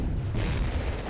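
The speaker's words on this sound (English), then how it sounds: "Sounds like a mine just went off." Landmine explosion in the video game Company of Heroes, a broad low rumbling blast filling the whole moment, steady and heavy without voices.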